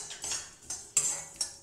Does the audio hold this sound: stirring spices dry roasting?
yes